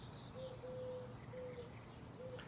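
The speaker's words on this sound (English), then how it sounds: "Don't you love the doves?" Doves coo in a low, steady, drawn-out tone, repeated a few times at moderate distance against a constant outdoor background hiss, with faint higher bird chirps scattered behind.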